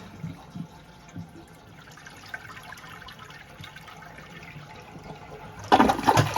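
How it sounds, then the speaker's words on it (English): A toilet whose tank lever is being repaired flushes at close range. A low watery trickle gives way to a louder rushing surge at the end. "There's a flush."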